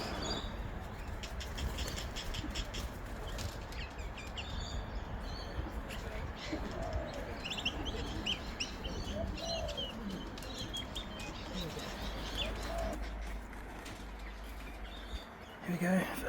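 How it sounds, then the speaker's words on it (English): Racing pigeons returning to the loft after a 350 km race, with wing flaps and soft coos against steady outdoor background noise, while people talk nearby. "let's get outside and watch the pigeons come in."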